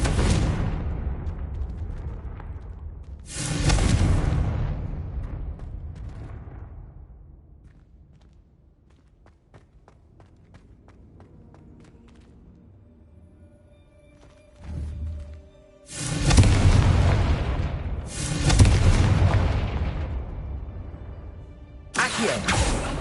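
Bombarda and Confringo spells detonate in Hogwarts Legacy: a handful of loud, sharp blasts with long decaying rumbles, two early bursts, then a quieter gap, followed by a clustered run of heavy booms.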